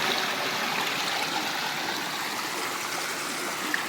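Water gushing through a hole over a log in a Konkan stream used for fish trapping, a steady broadband rush of flowing water that stays loud and continuous throughout with no voices.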